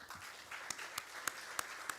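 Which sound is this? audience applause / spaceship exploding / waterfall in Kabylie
audience applause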